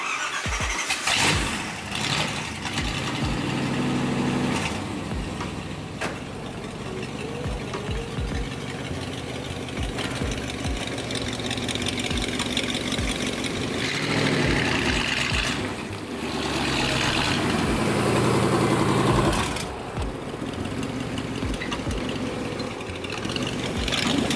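A lifted V8 Jeep Wrangler YJ starting up with a whirring crank and squeal, then a steady rumbling idle that runs close and loud throughout.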